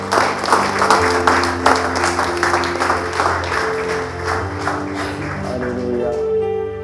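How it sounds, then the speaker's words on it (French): A church congregation applauds during a worship service, a sustained round of clapping over held musical tones that fades near the end. "J'aimerais qu'on applaudisse le Seigneur."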